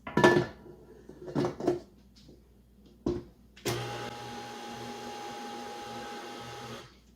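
A few clinks of a bowl come first, then a stand mixer whirs steadily as it beats the flour mixture into the wet cake pop ingredients, a close, even motor hum that holds until the end.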